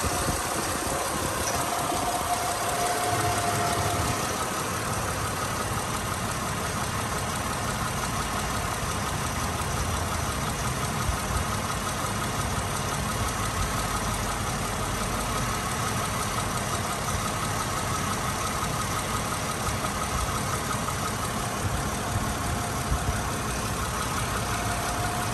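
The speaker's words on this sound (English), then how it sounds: "I will stand here for a moment, let you listen to the engine." A 2003 Mercedes-Benz C320 wagon 4Matic engine idles steadily and evenly at close range, a continuous mechanical hum with no talking or other sounds for the whole stretch.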